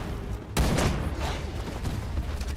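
Gunfire in the video game Wild Assault: a sharp, loud blast erupts after a brief lull, followed by a rolling fusillade of shots and booms that stays dense to the end.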